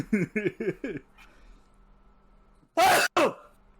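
A loud, close sneeze bursts out in two sharp blasts after a few short rhythmic chuffing sounds and a quiet pause.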